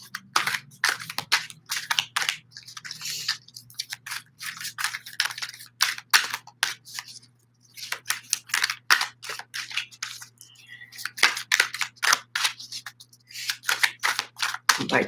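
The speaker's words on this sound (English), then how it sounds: "Still trying to learn get my technique of shuffling down with these cards." Deck of playing cards being shuffled by hand, with repeated crisp riffling and flicking bursts in quick uneven runs, close and distinct, broken by short pauses.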